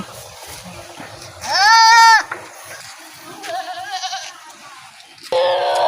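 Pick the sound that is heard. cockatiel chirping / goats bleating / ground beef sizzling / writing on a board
goats bleating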